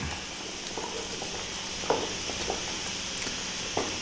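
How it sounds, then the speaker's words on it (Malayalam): Chicken Mughlai gravy sizzles steadily in a pan as ground paste is stirred in, a dense close hiss with occasional soft knocks from the stirring. "ഇനി ഒന്ന് ഇളക്കി കൊടുക്കാം."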